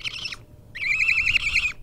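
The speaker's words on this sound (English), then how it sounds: "So this is a Eastern Great Horned Owl." Male Eastern Great Horned Owl held close indoors, giving two high wavering screechy calls, a short one and then a longer quavering one after a brief pause, loud and near with no talking.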